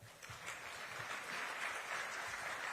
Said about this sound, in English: A lot of applause for the Principal Secretary.